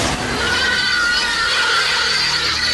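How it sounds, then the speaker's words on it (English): A loud, strained electronic squeal from a ship's computer in a film, with wavering tones, like a distressed pig squealing, sustained for a few seconds. "this rather menacing computer lights up and makes a sound like a very distressed pig"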